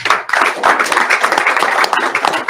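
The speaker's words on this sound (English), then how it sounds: "Another round of applause for him." Clapping and applause from an audience at a political event following an election-mandate speech, dense and fairly loud, with a brief gap near the start and no talk over it.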